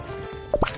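Short liquid plop and drip from water being poured in the BabyBus Little Panda's Dream Garden children's game, a brief bright splash sound standing alone.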